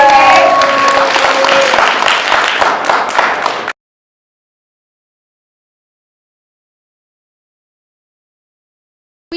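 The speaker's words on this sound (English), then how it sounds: "Let's give them a round of applause." Audience applause for guests at a youth empowerment show, a loud burst of clapping and crowd noise that cuts off abruptly after about four seconds, followed by silence.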